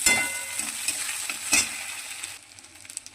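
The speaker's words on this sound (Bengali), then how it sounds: "এই পেঁয়াজটা একটু লাল লাল করে ভাজবো, ভেজে তার মধ্যে একটা টমেটো দিয়ে দিলাম" Onions and tomato frying in a pan for a fish-head moong dal, a loud close sizzle with stirring scrapes that settles to a quieter hiss near the end, no talking.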